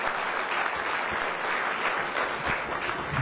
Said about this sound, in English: Give him a big round of applause, yes.